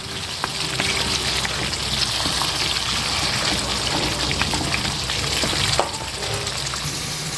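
Seekh kebab masala fries in ghee in a pan with a steady, dense sizzle, and a few faint clinks rise now and then over the constant crackle. No one speaks.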